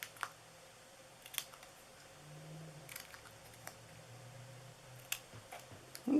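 Scissors snip through a Halloween gift box of paper or card in a handful of quiet, sharp clicks spaced irregularly, close and faint against a soft background.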